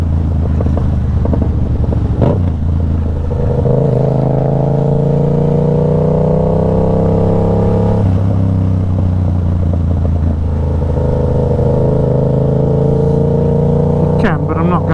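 A 2015 Yamaha MT-07 fitted with a cheap KO Lightning straight-pipe exhaust runs loud and close, its throaty note shifting pitch a few times under some wind noise.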